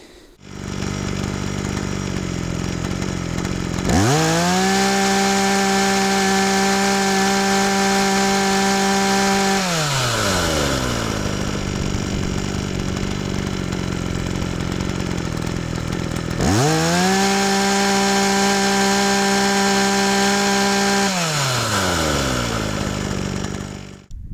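A Stiga 755 or Solo 6656 chainsaw engine revving twice to a high sustained whine for several seconds each time, then dropping back to a rough idle between bursts, loud and close.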